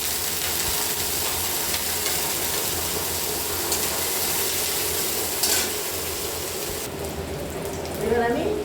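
Ginger and garlic frying in a pan for Bengali potato chops, a steady soft sizzle with occasional stirring scrapes, continuous and close throughout.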